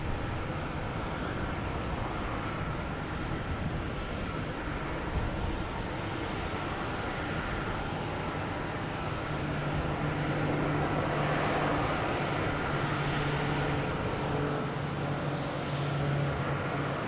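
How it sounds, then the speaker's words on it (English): A Cape Air Cessna 402 takes off, its engine drone a steady, broad roar that holds at an even level throughout, with a low, constant tone running beneath it. "Next taking off is a Cape Air heading to Hyannis, Cessna 402."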